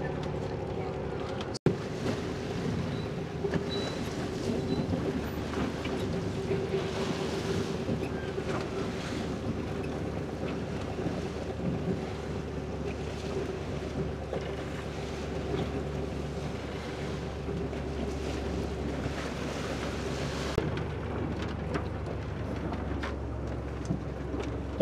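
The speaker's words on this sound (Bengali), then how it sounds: "তো আমাদের বোট ছেড়ে দিল এই ঘাট থেকে।" A tourist boat pulling away from a pier on the Mekong Delta, its steady engine drone running under wind buffeting the microphone and water rushing past, with one sharp knock early on.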